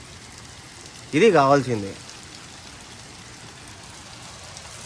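Heavy rain falls steadily in Saudi Arabia as an even, hissing wash of drops, with someone speaking briefly over it before the downpour continues alone.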